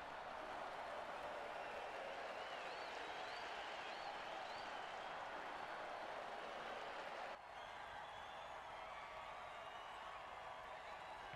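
Crowd cheering and applauding at a football game, heard as a steady, faint, distant roar of clapping and voices that runs without a break and dips slightly partway through.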